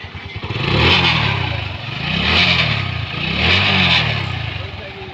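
A motorcycle engine revs up close by three times, each throttle swell rising and falling in loudness.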